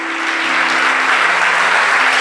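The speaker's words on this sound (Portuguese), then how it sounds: "Você pode aplaudir Jesus?" A church congregation applauding during a sermon, a full, loud, continuous wash of clapping from many hands, sustained throughout with a faint steady hum underneath.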